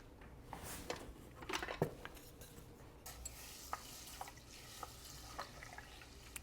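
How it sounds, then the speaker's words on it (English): A spoon stirs a lentil mango soup flavored with turmeric in a pan. Soft scrapes and wet sloshes come close and quiet at an uneven pace over a low simmering hiss. "I'm going to give it a little stir."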